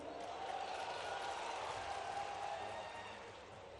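A crowd at a farmers' rally in the village of Kulaith, Gwalior, applauds in a sustained, even wash of clapping and murmur heard from a distance.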